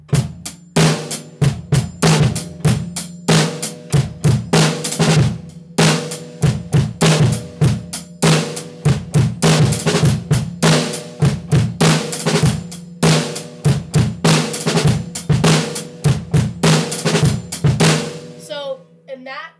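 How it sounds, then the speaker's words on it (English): Drum kit groove between hi-hat and snare drum with five stroke rolls worked in, played steadily and loud for about eighteen seconds, crisp cymbal ticks over punchy snare hits, then stopping abruptly. "I'm just going to do that while playing a groove between the hi-hat and the snare drum"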